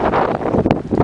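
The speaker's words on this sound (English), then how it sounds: "And the wind is always windy." Gusts of wind buffet the microphone outdoors by the water in Illinois, a rough, uneven rushing over roughly a second.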